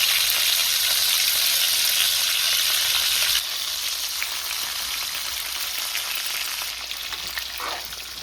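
A thick pork chop fries in a skillet, giving a steady close hiss of sizzling fat that drops a little softer partway through and keeps crackling on its own.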